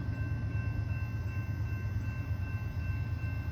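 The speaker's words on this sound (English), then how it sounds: "Long military train." A long military freight train with Kansas City Southern locomotives passes as a steady, loud, low rumble with a faint high rail squeal and no voices.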